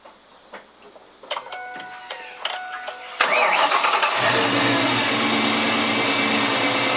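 A car engine cranks and catches after a few faint clicks and thumps, then settles into a steady, loud idle that fills the rest of the clip, with no talking.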